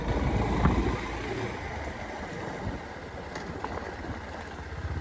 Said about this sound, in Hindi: अब मैं चला रहा हूँ होंडा CB 350